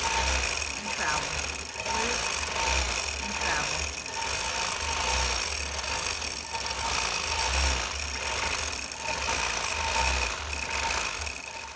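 Sewing machine stitching free-motion quilting loops, a steady close mechanical hum with rhythmic pulsing needle strokes that swell and ease across the whole stretch.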